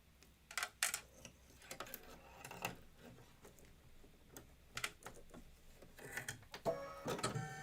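A home embroidery sewing machine stitches a white satin-stitch outline on cream fabric, making a quiet, uneven run of mechanical clicks and needle taps with brief louder bursts.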